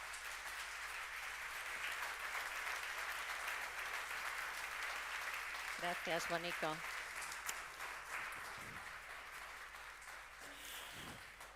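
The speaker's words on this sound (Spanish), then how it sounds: "un aplauso por favor para ella." Applause from an audience at a live tribute event for Iñaki Añua, sustained broad clapping throughout, with someone briefly speaking over it near the middle and end.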